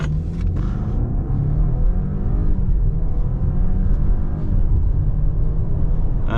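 A car accelerates hard toward 100 km/h at the start of a braking test: a loud, close, continuous engine rumble and whir that holds steady throughout, with no voices.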